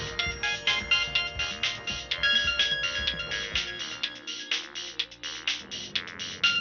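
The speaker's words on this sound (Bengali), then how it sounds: "এই তো রিং হচ্ছে।" A phone ringtone plays loudly and continuously, a bright melodic tune repeating its notes in a quick rhythm for the whole stretch, with no voices over it.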